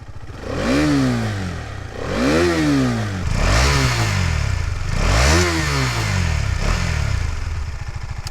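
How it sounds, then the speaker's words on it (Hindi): A KTM Duke 250 BS6 motorcycle revved repeatedly while stationary, its exhaust rising and falling in several loud, evenly spaced throttle blips over a steady idle. "And now let's listen to the exhaust note, क्योंकि ये BS6 है।"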